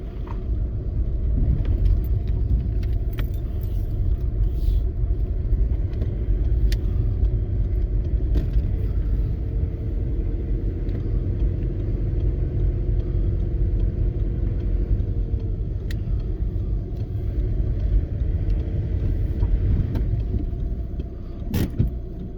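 A Skoda Yeti driving off the road into a field, its engine and tyres making a steady, continuous low rumble heard from inside the car.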